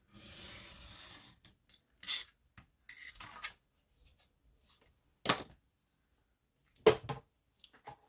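Scissors snip through paper being cut down into journal cards, a few separate crisp cuts and rustles spaced out with quiet gaps, close and fairly soft.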